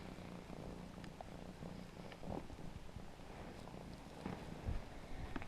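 Cats purring close by, a big ginger Persian and a black-patched cat, a soft, steady low rumble that runs throughout, with a few faint rustles and thumps.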